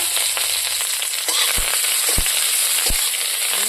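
Hot oil sizzles and crackles steadily in a wok, with a few sharp pops as bay leaves drop into the pan.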